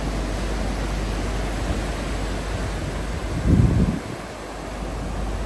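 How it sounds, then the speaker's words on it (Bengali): Rough sea waves wash in steadily under strong wind on a full-moon night, a constant broadband roar with one louder surge and crash midway, and no voices. "এই যে সমুদ্রের ঢেউগুলা দেখো তোমরা।"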